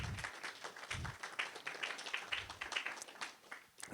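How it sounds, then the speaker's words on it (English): An audience at a local web developer meetup gives a round of applause, steady, moderately quiet clapping from a modest-sized room. "So, our thanks and round of applause, please."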